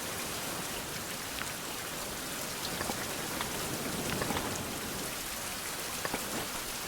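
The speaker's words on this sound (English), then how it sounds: "Ooh, it's raining." Steady rain patters down continuously, with scattered individual drops ticking through the hiss.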